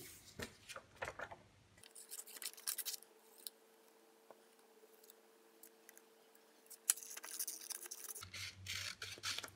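Scissors snip through paper cutting out the ears and tail of a paper craft, quiet close crisp cuts in short bursts and a longer run of snips near the end.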